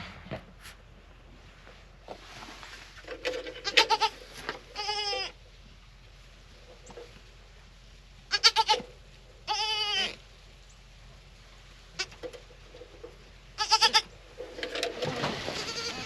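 Goats in a dry shelter with newborn kids during a freeze, bleating in several separate calls, some long and wavering, close by against a quiet background with occasional rustling.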